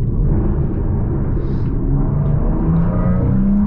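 A Porsche Panamera 4S E-Hybrid powers out of a curve, its engine a steady, loud, close rumble that keeps pulling with a faint rising whir, and no one speaks.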